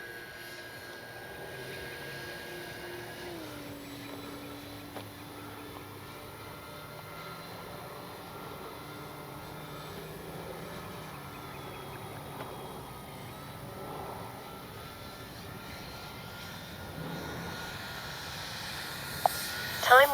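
A Flightline P-38 1600mm twin-engine RC plane flies on a windy day, its electric motors a faint, steady whine drifting at a distance, rising slightly near the end.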